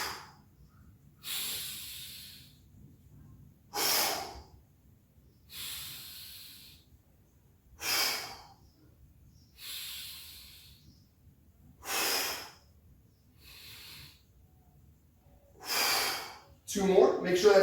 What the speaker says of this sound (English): Now you may notice I'm breathing very loudly.